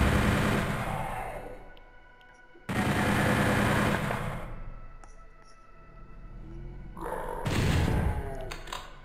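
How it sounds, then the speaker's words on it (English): A chaingun blasts in the video game DOOM 64 in rapid sustained bursts, three loud stretches of continuous firing separated by brief lulls, heavy and close with booming impacts underneath. "Get the chain gun out."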